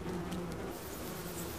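A colony of about ten thousand bees buzzes inside a large tree-hollow nest of hanging comb layers, a steady, dense drone close by with no pauses and no talk.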